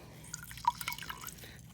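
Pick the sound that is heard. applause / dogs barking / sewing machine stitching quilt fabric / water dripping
water dripping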